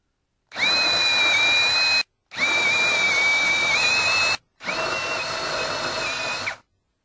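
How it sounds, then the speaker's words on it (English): A power drill bores speed holes in a metal bracket in three long, steady runs of a couple of seconds each, close and loud with short pauses between them and no talking. "I'm going to drill the last series of holes"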